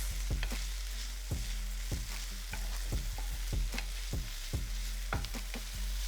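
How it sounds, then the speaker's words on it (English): Onions, green pepper and chili sauté in a hot pan with a steady sizzle, broken by repeated knocks and scrapes of a utensil stirring the vegetables, close and fairly loud. "We're sauteing this for about 2 minutes."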